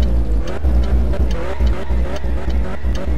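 A modded car engine from the driving game My Summer Car runs steadily and loudly with a deep rumble and slight rhythmic pulsing throughout, with no talk over it.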